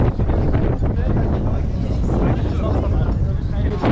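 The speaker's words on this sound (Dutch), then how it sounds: "Het waait best wel hard." Strong wind at a high abseiling site roars steadily against the microphone, a continuous rumbling buffet with no breaks, loud and close throughout.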